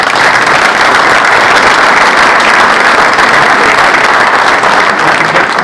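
A conference audience at the Trophée de l'Éditique 2024 ceremony gives steady, loud, dense applause for the sponsors, unbroken and without speech.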